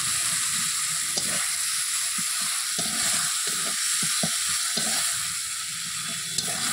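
Malabar spinach leaves frying with spices in oil in a pan, a loud, continuous close sizzle broken by soft scraping stirs, with no voices.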